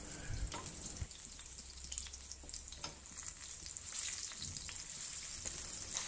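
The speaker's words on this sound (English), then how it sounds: "Flip the salmon to pan fry the other side until it's no longer pink" Salmon with cornstarch-coated skin pan fries with a soft, steady sizzle and faint crackles, a few louder clicks and scrapes near the start, heard fairly close at low volume.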